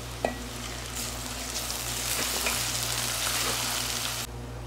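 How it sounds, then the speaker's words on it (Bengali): Ginger-garlic paste hits lightly browned onion in hot oil, a loud, continuous sizzle with a few spoon clicks and stirring scrapes, cutting off abruptly near the end over a low steady hum; no talk. "এখন আমরা দিয়ে দেবো আদা রসুন বাটা 1 চামচ"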